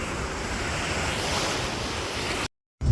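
Sea waves wash onto a beach in Poland in a steady, loud roar of surf mixed with wind buffeting the microphone, then the sound cuts briefly to silence before returning.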